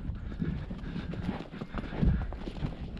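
A Quarter Horse mare's hooves pound in a quick, uneven rhythm on soft ground, thudding close by with rustling and muffled movement throughout.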